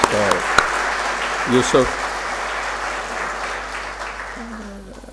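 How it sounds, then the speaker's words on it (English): Seminar audience on international financial reporting standards gives a round of applause, a broad steady wash of clapping that fades toward the end, with someone speaking briefly over it at the start and again near the close. "a big round of applause"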